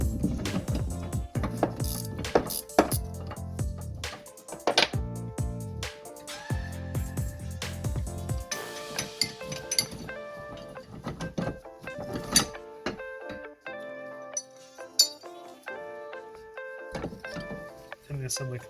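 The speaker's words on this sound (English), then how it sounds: "we're going to put the unit into a vise, and we're going to be removing these 3 bolts here" Clanks and metallic taps from bolts being removed from a Hi-Lift jack held in a vise during a rebuild, with a 1/2 inch lower bolt, scattered knocks and ratcheting clicks, close and irregular.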